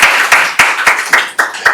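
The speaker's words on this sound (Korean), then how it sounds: "큰 박수 부탁드립니다." Applause at a Korean policy seminar welcoming an economics professor, sounding as a few loud, close, evenly spaced claps roughly every quarter second with a softer wash of clapping beneath them.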